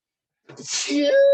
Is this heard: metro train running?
no